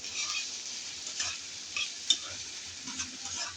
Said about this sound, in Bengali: আমি পেঁয়াজটা খুব কম ভাজবো।